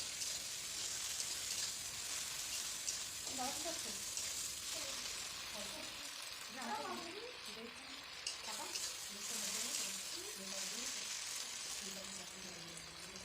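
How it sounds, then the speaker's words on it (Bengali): Ginger-garlic paste frying with softened tomato in a pan, a steady close sizzle running throughout with faint voices and scraping underneath. "এবার এটাকে ভালো করে ভেজে নেব।"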